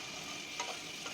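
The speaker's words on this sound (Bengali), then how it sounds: "আলুগুলোকে আমি একটু লম্বা লম্বা করে কেটে নিয়েছি, দিয়ে নুন হলুদ মাখিয়ে সুন্দর করে ভালো করে আমি ঢাকা চাপা দিয়ে দিয়ে লাল করে ভেজে" Long-cut potato pieces rubbed with salt and turmeric fry in a covered pan, giving a steady close sizzle with a couple of soft clicks and no talking.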